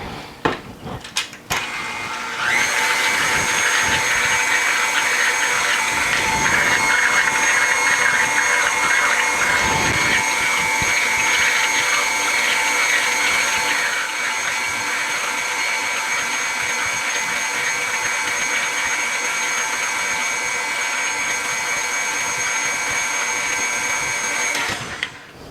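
Electric mixer fitted with a whisk attachment beating butter for cupcake frosting, a steady loud motor whir running for about twenty seconds after a few short clattering starts.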